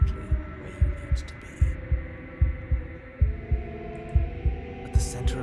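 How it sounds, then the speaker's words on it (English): A wooden and fleshy heart in the game Slay the Princess beats with an unbroken rhythm, each low, heavy double thump evenly spaced over a sustained droning hum, with faint higher chimes drifting above. "a wooden and fleshy heart beating with an unbroken rhythm"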